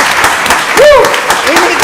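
An audience at a county board of commissioners meeting claps in a short, scattered burst, with a voice talking over the applause.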